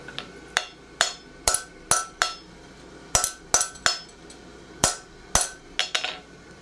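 Hammer blows on a steel drift driven through a horseshoe at the forge, a dozen sharp metallic strikes in uneven pairs and runs, close and fairly loud with ringing decay, no talk.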